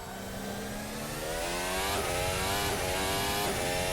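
Mercedes engine of the Formula Hybrid 2022 S racing at Silverstone in a sim game, a loud, steady high-revving hybrid howl with a dense stack of harmonics, briefly shifting near two and three and a half seconds.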